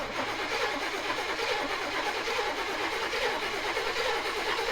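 A truck engine on a rare truck build cranks and starts, a dense, steady mechanical roar that stays loud and even throughout, with no voices.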